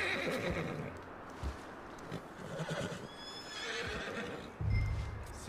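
A horse in Red Dead Redemption 2 neighs and whinnies, with clip-clop hoofbeats and outdoor game ambience, a loud snort or whinny bursting near the end.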